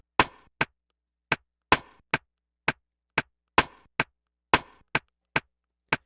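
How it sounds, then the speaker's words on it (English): A brighter second rim shot drum sample for Afrobeats alternates with the first in a looping pattern, a dozen crisp, dry hits with short tails, some ringing slightly longer than others. "I want to accentuate it with another rim shot sound"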